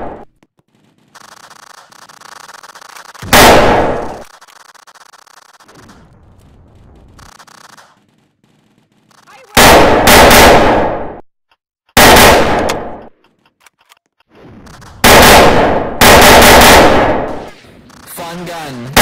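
Gunfire in Roblox, heard as several loud bursts of rapid shots lasting one to two seconds each, separated by near-silent gaps and quieter game sounds.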